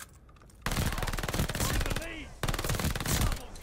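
New weapon firing tracer rounds in Call of Duty Vanguard with a Snoop Dogg tracer pack skin: two long bursts of rapid automatic gunfire, loud and close, separated by a short pause.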